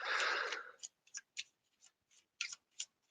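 A deck of cards is riffle shuffled, a brief rapid flutter of cards followed by a string of short, soft snaps and taps as the cards are bridged and squared, close and fairly quiet.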